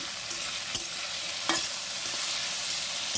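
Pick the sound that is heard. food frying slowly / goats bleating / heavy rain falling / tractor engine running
food frying slowly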